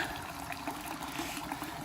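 Water trickles through a 1.5-inch poly pipe feeding a homemade heater, a soft, steady bubbling and gurgling flow at low level, continuous with no voices.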